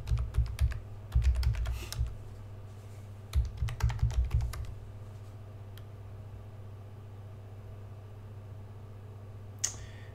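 Typing a command on a computer keyboard in a terminal, quick close bursts of key clicks in two flurries, then quiet with a single tap near the end, no talking.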